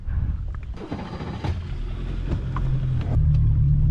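Engine of a fishing boat running steadily, a low rumbling drone that builds slightly toward the end, with a few faint knocks and clatters on deck; close and fairly loud, no talking.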